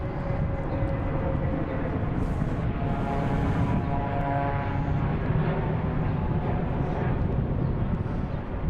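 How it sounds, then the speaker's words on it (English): A JetBlue airliner departs Boston Logan International Airport on a cold afternoon, its jet engines producing a loud, continuous roar that holds steady throughout without speech. "we got a JetBlue heading to Savannah"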